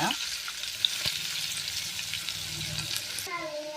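Onions frying in oil in a home kitchen, a bright close sizzle with stirring scrapes, steady through the clip, with a voice talking briefly near the end.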